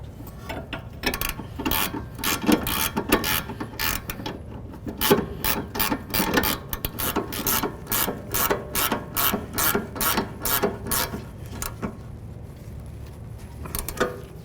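A ratchet snugs up 18 mm nuts on a front sway bar link of a 2005-14 Ford Mustang, giving rapid, close, repeated clicking bursts in uneven rhythm with short pauses between strokes.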